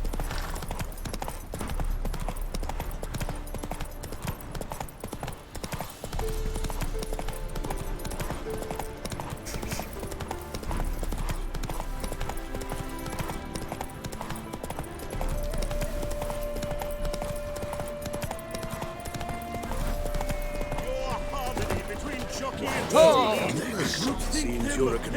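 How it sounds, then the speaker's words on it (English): A horse in The Witcher 3 clip-clops steadily throughout a long stretch of play. The hooves sit under music and ambient game sound, and speech is present at times. "Eso acá, hay caballo de carrera."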